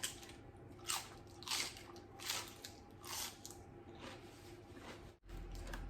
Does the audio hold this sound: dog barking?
no